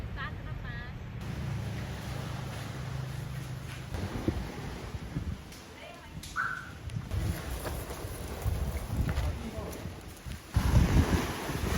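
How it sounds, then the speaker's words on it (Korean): A small speedboat heading to Gili moves through wind, with gusty wind buffeting and engine and water noise, while people talk now and then. "기아는 처음으로 작은 배에 올라탔습니다."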